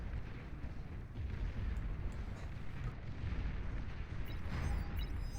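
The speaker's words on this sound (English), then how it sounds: "We can see the anti-air missiles firing away here as well." Anti-air missiles fire in the video game Beyond All Reason amid a heavy, rumbling battle din of bursts and booms, steady and loud with no voices.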